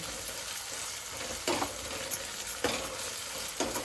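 Ginger-garlic paste is stirred into onions frying in a pan for a mushroom dish. A steady close sizzle is punctuated by several rhythmic spoon scrapes against the pan.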